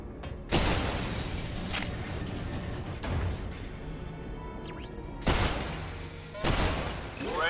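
Gunshots ring out in the VR shooter Bulletstorm on Meta Quest 3: several loud, sharp single blasts spaced a second or two apart, with a brief metallic clatter and faint game sounds between them.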